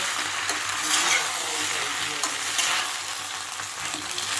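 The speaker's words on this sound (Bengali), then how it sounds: "ভালো করে মিশিয়ে দিয়ে এই সময় সেদ্ধ করা পাস্তাটা ঢেলে দেব সব একসাথে মিশিয়ে নেব" Boiled pasta is stirred into a vegetable red sauce in a hot pan, producing a steady close sizzle with soft scraping stirs and brief clinks, and no voices.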